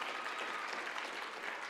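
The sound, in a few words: audience applause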